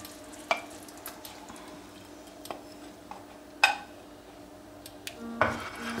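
A utensil stirs eggs with shrimp and spinach in a frying pan, quiet scrapes and occasional sharp clinks against the metal over a soft steady sizzle, close up, with no talking.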